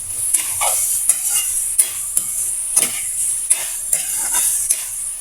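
Chicken sautéing in a pot for home-style tinola: a steady bright sizzle with repeated clinks and scrapes of a utensil stirring against the pot, close up and with no talking.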